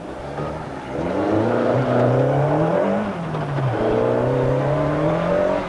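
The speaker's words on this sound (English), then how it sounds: "There's a car coming." A rally car approaches on a stage of the 1991 Volkswagen Algoa Rally, its engine loud and close, revving up, easing off and climbing again as it draws nearer.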